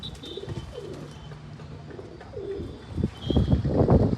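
Pet pigeons coo on a sunny rooftop terrace, several low rolling calls close by, ending in louder fluttering and shuffling, with no talk.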